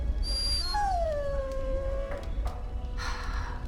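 A dog in the fantasy game Dragon Age: Origins lets out a long, drawn whine that slides downward, followed by a few fainter whimpers over a steady low background hum.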